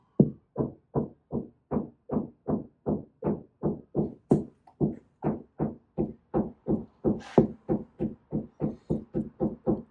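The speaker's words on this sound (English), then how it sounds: "So you knock on the wall." A hand knocks on a wall to find studs, about thirty close, even, evenly spaced raps in a steady rhythm, some hollow and some duller, with no talking.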